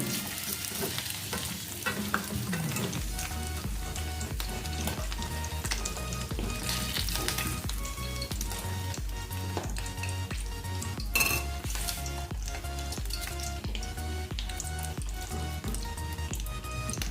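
Potato bites fry in oil in a kadhai, with a continuous sizzle and a utensil repeatedly stirring and scraping against the pan.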